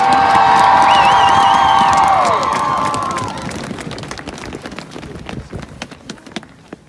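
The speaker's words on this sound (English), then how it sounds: "get one more round of applause for that excellent" Outdoors at a March For Our Lives rally, a crowd cheers with high whoops and shouts over clapping, the cheering dying down after a few seconds into scattered claps and murmurs.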